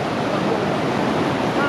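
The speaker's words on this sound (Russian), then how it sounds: "какие пороги, перекаты" Mountain river rapids in the Makhar gorge roar with a loud, dense, unbroken rush of churning water close by.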